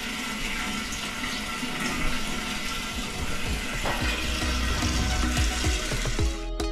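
Water running into a boat's water tank, a continuous splashing gush with gurgling low-end bursts, close and steady for several seconds before cutting off at the end.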